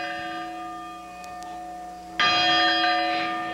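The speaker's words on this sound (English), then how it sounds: "the haunting echo of a bell ringing for those lost in today's tragedy" A church bell tolls for those lost in the September 11, 2001 tragedy, a long ringing tone fading slowly before a second, louder strike rings out near the end.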